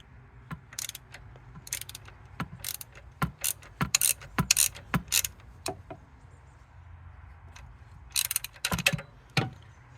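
A belt tensioner on a Pajero engine being moved by hand, giving sharp, close mechanical clicks and ratcheting snaps in irregular bursts over a low background hum.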